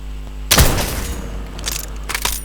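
A sudden loud burst of Minecraft gunfire, followed by a few fainter shots popping a second or so later.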